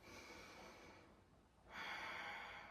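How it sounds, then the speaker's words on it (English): Quiet nasal breathing during a beginner yoga practice, a soft drawn breath in through the nose with the mouth closed, fading briefly before a stronger airy inhale, close and faint with no talk. "Breathing in through the nose only, just keeping the mouth closed for a little while."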